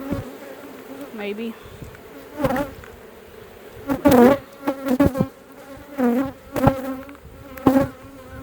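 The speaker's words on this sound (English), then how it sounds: "Can't have bees in the suit." Bees buzz around a beehive during a late-season check before winter, loud close passes rising and fading repeatedly over a steady hum, with a voice briefly speaking.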